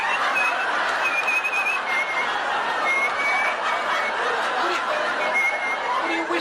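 Someone whistles a thin, wavering tune in a radio comedy scene, soft warbling notes drifting over a noisy background with faint murmurs.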